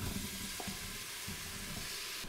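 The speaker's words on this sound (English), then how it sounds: "So I'm gonna do about 7 minutes of sauteing time." Honeycrisp apples sauté in a hot Instant Pot, a faint steady sizzle with a few soft stirring taps, no talking.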